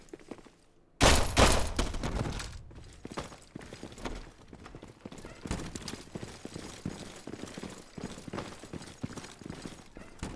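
Unsuppressed weapons fired by NPCs in the video game Intravenous 2: a sudden loud burst of gunfire, then a steady stretch of repeated shots and impacts, with no talking.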